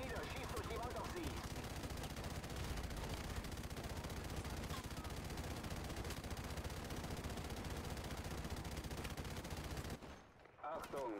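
Sustained machine gun fire in the Call of Duty Modern Warfare Remastered swamp mission, loud, dense rapid bursts filling nearly the whole stretch, with battle noise and voice chatter mixed underneath before an abrupt drop near the end.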